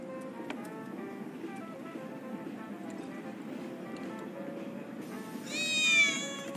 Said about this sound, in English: Wait, did you hear that just now? I think one of Betty's cats might be nearby.